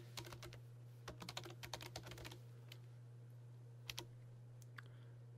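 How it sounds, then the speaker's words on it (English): Keys clatter on a computer keyboard while an IP address is entered during setup of an SSH server backup on an SCO system; bursts of close, crisp clicks, then a few isolated taps over a steady low hum. "And you type in the IP address."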